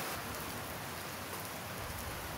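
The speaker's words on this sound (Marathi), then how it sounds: "पुणे शहरात पावसाने दमदार हजेरी लावली आहे" Heavy rain pours over Pune on Ganesh Chaturthi, a dense, unbroken roar of drops on surfaces with no voices, steady and loud for the whole stretch.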